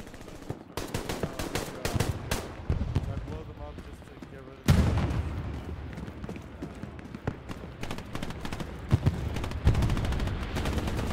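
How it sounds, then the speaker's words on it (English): Dense gunfire and explosions from a bombing run crash through a battle in the World War II shooter Hell Let Loose, with rapid shots, sharp blasts and a heavy impact midway, loud and continuous with some talk. "Alright, bombing run's going down on it."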